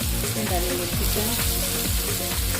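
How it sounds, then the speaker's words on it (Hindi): Chicken browning in a pan with onion and ginger-garlic paste, a loud, continuous sizzle and crackle with stirring scrapes throughout, no voices over it. "और चिकन को 2-3 मिनट ब्राउन करने तक भूनेंगे।"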